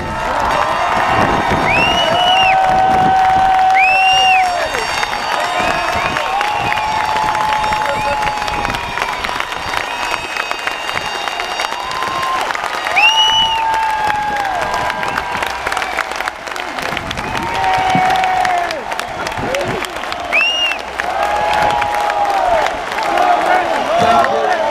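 A large crowd at a Jeremy Corbyn leadership campaign rally in Liverpool cheers, whistles and applauds loudly and continuously, a dense roar of clapping and shouting with bursts of whistling throughout.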